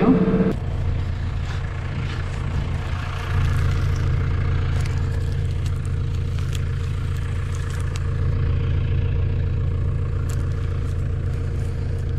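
A farm tractor runs steadily at about 2000 rpm while tilling soil 20-22 cm deep at roughly 8 km/h during spring barley field preparation, a constant low, close drone with no breaks and only faint talk.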